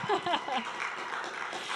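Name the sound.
audience applause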